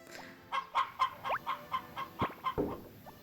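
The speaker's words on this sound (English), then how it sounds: "So let's take care of the chickens as always." Chickens cluck in a barn in the Harvest Moon video game, a steady run of about a dozen short, evenly spaced clucks at moderate volume with no talk.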